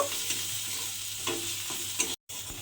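Spice mixture with a little sugar being stirred and fried in a pan for a puffed-rice dish, a soft continuous sizzle with intermittent spoon scrapes, close and fairly quiet, no talking.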